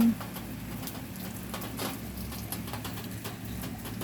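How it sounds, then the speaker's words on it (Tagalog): Steady, dense rain patter with a constant hiss and scattered sharper drops, loud and close, with no voices. "Heavy rain."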